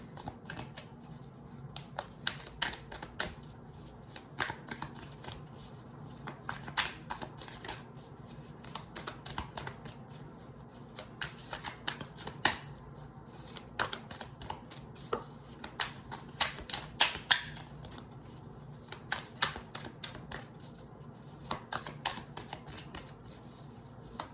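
Tarot cards being shuffled by hand, a run of quick papery riffles and taps in close, repeated bursts with short pauses, no talking over it.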